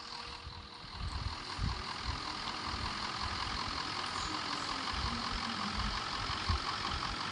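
A bus in the Roblox game Brookhaven drives along with a steady engine hum and low rumble, moderately loud and continuous, with no voices.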